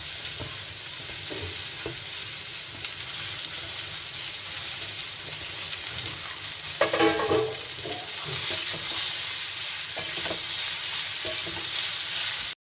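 Chopped ash gourd sizzles steadily in a hot pan for a Bengali curry, with a spatula stirring and scraping at intervals over a continuous close frying hiss.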